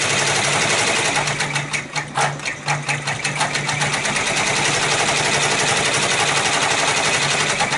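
A Babylock 10-needle embroidery machine stitches with a rapid, even mechanical clatter that stays steady close up, with a few brief uneven bursts early on.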